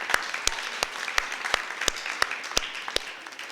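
Guests at a reception for an annual Black swim meet applaud, a roomful of clapping with a few sharp, evenly spaced claps standing out near the microphone before the applause tapers off.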